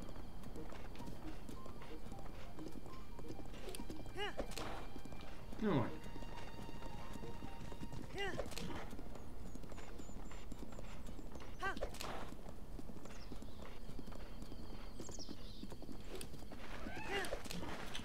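Horse hooves clip-clop at a steady running pace in Zelda Breath of the Wild, with occasional whinnies over continuous game ambience while someone talks throughout.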